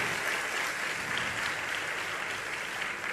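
Continuous, even applause from a gathered audience at a religious discourse, a dense wash of clapping with no break.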